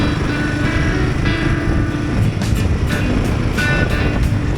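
A Royal Enfield Himalayan 450 motorcycle is being ridden, its loud, steady engine drone mixed with rushing wind noise and a few brief whooshes, constant and close for nearly five seconds, with no talking.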